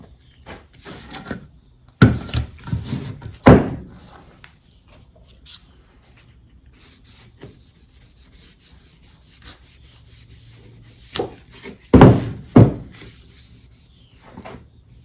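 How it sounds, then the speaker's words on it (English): Wax is rubbed onto a wooden board in uneven bursts of dry scraping strokes, loud near the start and again toward the end, with quiet gaps between. "I don't want to go too high on my board with my wax"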